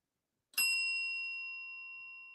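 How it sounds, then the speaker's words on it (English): One bright, clear bell strike rings out alone, its pure metallic tone sustaining and slowly decaying over a couple of seconds in a quiet room. "One more bell. Yes, one more bell."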